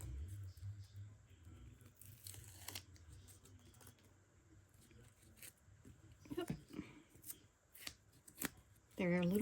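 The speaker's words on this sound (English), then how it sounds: "I'm going to take the white paper off, and I'm just going to put these 2 together as closely matched up as I can" Paper backing peels off felt carrot stickers from Dollar Tree for an Easter egg craft, giving a run of soft crinkling, rustling and scratchy tearing sounds at close range, with a louder crackle near the end.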